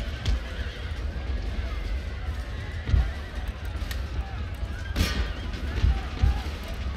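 Cavalry horses gallop and whinny amid a battle in Empire: Total War, loud hoofbeats and neighs rising over a dense roar of fighting while someone talks over the action.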